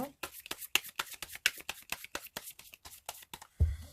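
Tarot cards being shuffled by hand, a rapid run of crisp riffling slaps and flicks in close succession, ending with a soft thump as the deck is set down.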